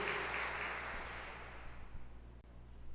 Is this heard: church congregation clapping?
yes